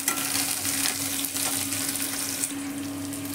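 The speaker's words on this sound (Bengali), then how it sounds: "যে কাঁচা লঙ্কাগুলো পেঁয়াজের সাথে ভেজে নেব" Green chilies and onions fry in a pan for a ridge gourd and prawn curry, a loud, continuous sizzle with stirring scrapes right up close, and no voices.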